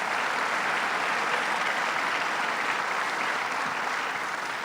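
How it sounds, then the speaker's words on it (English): Audience applause at a governor's announcement event for the Greater Rochester International Airport completion, a dense, steady wash of clapping from a large crowd, continuous and even throughout. "Let's give him a round of applause"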